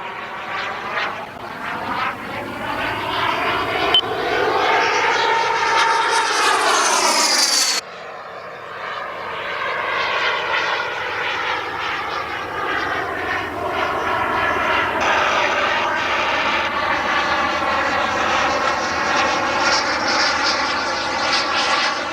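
A BDX RC jet model aircraft passes overhead with a continuous turbine whine that rises in pitch, cuts abruptly, then resumes as a sustained roar, steady and fairly loud throughout.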